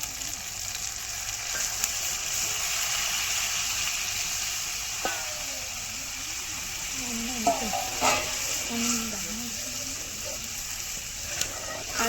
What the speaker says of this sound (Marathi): आता पाणी टाकून देते.